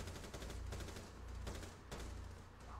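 Rapid gunfire from the tactical shooter Rainbow Six Siege rattles out in dense, sustained volleys, loud and close, with no one talking.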